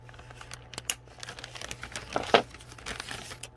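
Small stick pins from a dollhouse laundry room laser kit are handled inside a plastic bag, making close, soft crinkling and rustling with a few light ticks and taps.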